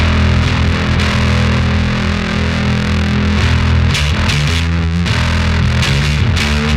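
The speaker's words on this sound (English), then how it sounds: "Straight away, you can hear there's a truckload of gain." A loud, heavily distorted electric guitar plays thick, saturated chords with a strong low end, continuous and dense throughout.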